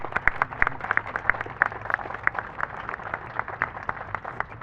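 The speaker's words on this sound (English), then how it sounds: "Please, a warm round of applause for Joan Hartley" Audience applause at a memorial dedication in Waterbury, a steady patter of many hands clapping at moderate distance, even and sustained throughout without voices over it.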